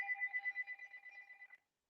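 A phone rings with a steady electronic tone, one sustained burst of roughly a second and a half that stops abruptly. It sounds fairly close, with no talking over it.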